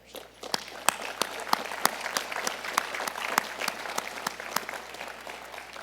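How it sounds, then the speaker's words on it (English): A commencement audience at Carnegie Mellon University's 120th graduation gives a steady round of applause for the support team, many hands clapping in a dense, even patter heard from a distance with sharper individual claps standing out. "So I invite all of us to thank the support team with a wonderful round of applause for the supporters"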